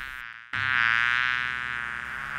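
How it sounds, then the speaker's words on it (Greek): Mosquito buzzing around a bull's head in an Aesop's fable, a steady, loud, continuous whine that starts after a brief pause and holds for about two seconds with no talk. "ένα κουνούπι τριγύριζε βουίζοντας γύρω από το κεφάλι ενός τάβρου"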